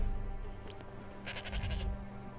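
A sheep bleats a few times in the video game Forspoken, short wavering cries over a low steady hum, faint and somewhat distant, with no talking.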